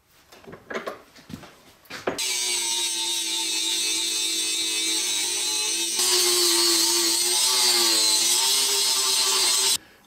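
An angle grinder grinds the lip off an old brake rotor being made into a wheel spacer, a loud sustained high-pitched whine that steps up in intensity midway, preceded by brief clanks of handling.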